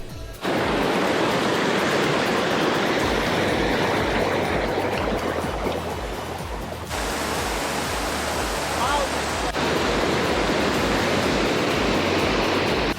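Rushing mountain creek running high with snowmelt on a hiking trail near Mount Baker, a loud, steady roar of water filling the whole scene without pause.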